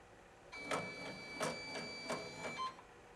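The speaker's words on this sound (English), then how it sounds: "now we're going to send the machine to needle number 1" A Highland HM/D-1501C multi-needle embroidery machine whirs as it shifts to needle number 1, a brief mechanical run with several rhythmic clunks and a faint tonal whine, fairly quiet and alone.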